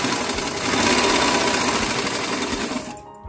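A sewing machine runs in one steady close burst, top-stitching a 1.5-inch strip on a plain blouse, its needle chattering rapidly before stopping abruptly near the end.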